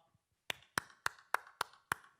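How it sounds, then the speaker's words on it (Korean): Six sharp, evenly spaced claps in a slow steady rhythm during a church Sunday service, honoring the departing assistant pastor; each clap distinct and fairly faint, with no talking. "우리 전도사님에게 우리 큰 격려의 박수, 축복의 박수 했으면 좋겠습니다."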